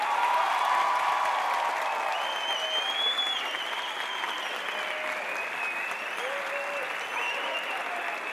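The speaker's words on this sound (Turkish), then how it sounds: "Alkışlarınızla." Audience applause after a school year-end stage performance, a steady, moderately loud wash of clapping from a crowd, with shouts and voices rising above it throughout.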